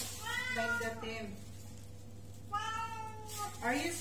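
A pet cat named Tim meows twice in drawn-out, pitched cries indoors, the calls rising and falling close by over a steady low hum, with a voice talking to it between them.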